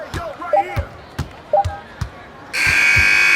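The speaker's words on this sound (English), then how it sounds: "Final buzzer sounds, and that'll do it." Sneaker squeaks and basketball bounces in NBA 2K21 give way to a loud, sustained final buzzer that sounds alone to close out the game.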